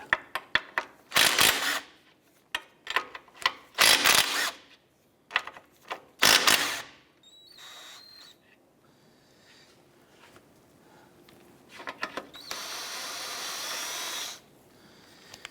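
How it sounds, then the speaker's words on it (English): A 16mm socket loosens the three ball joint nuts on a 2010-2018 Volkswagen Jetta, giving a series of short, sharp ratcheting bursts close by, then a quieter stretch and one longer rasping run near the end. "Using a 16mm socket, we're going to go ahead and loosen these 3 nuts on the ball joint."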